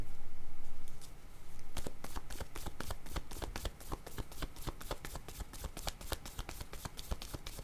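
Tarot-style cards shuffled and drawn for a reading: a soft rush at first, then a long run of quick, crisp snapping flicks in rapid irregular rhythm, close and clear with no talking.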